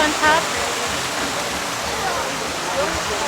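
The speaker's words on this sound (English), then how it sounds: "I like the waterfall." Resort hotel waterfall pouring as a steady, close rush of water with voices briefly audible over it.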